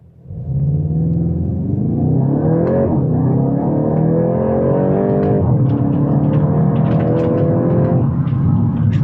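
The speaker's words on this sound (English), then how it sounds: "And now from a standstill, pedal to the floor, here we go." A 2026 Volkswagen Golf GTI accelerates at full throttle from a standstill, its engine rising in pitch through the gears with a brief dip at a shift, a loud, close, continuous drone with no talk.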